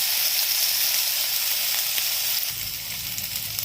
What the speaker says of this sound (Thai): ผัดให้หอมครับผม